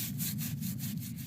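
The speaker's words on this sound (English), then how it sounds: "if I start to scrub it, then you can start to see the coral polyps" Short, close, rhythmic rasping strokes of a brush scrubbing a fossilized coral rock, each stroke a gritty rub repeating several times in quick succession.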